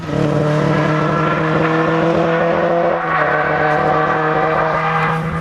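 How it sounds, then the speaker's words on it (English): A rally car engine with a fault idling and revving unevenly nearby at the 1996 Manx International Rally, loud and continuous with a rough, sputtering tone. "here at St Jude's his engine sounds very sick"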